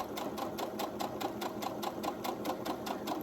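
A sewing machine stitches steadily around a small wristlet pouch, a quick, even run of needle strokes that carries on close and clear from start to finish with no pauses.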